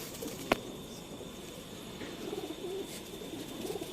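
Pigeons in a loft kept for breeding season, giving soft low repeated cooing phrases at close range, with a faint sharp click early on and steady quiet background hiss.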